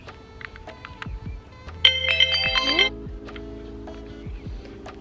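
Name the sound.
phone timer alarm ringing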